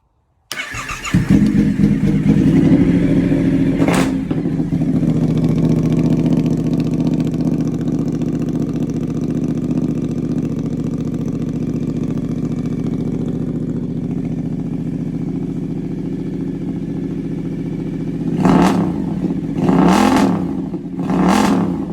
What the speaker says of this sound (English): We get the bike started.